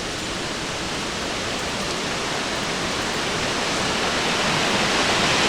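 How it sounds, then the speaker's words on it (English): Wren Falls pours in a steady, broad rushing roar of falling water, loud and close, unbroken for the whole stretch with no voices. "Oh, the falls is pretty."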